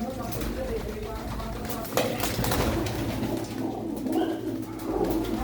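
Pigeons coo softly in a loft amid a noisy, broadband background, their low murmuring calls blending with faint outdoor hum and occasional clatter.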